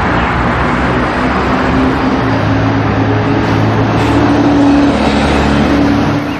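A toy bus, an Indonesian 'bus oleng' style model, gives off a continuous engine-like revving drone with steady tones, loud and close, with no voices.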